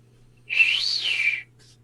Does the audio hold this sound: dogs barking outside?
no